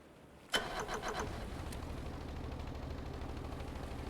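Engines start on a built rotor vehicle in the Stormworks game, an abrupt crank and catch followed by a sputtering burst, then a steady low mechanical drone, moderately quiet and without talk.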